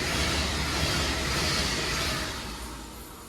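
A Pendolino electric train, unit 020, rushes through a crossover at Poynton station, a loud close roar of wheels and rushing air that fades slightly as it passes, no clicking rhythm distinct.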